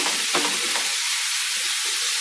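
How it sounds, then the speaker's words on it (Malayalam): Fish coated in spice paste frying in hot oil in a pan, a steady close hiss of sizzling with a couple of brief stir or flip clatters at the start, no voices. "2 സൈഡും തിരിച്ചിട്ട് മൂപ്പിച്ചെടുക്കണം."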